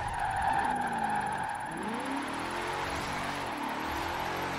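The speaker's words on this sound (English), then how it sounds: "Oh, I'm drifting." Cadillac drifting in Forza Horizon 4, a steady engine hum overlaid by rising and falling tire squeals in a few swoops, moderately loud with no talk.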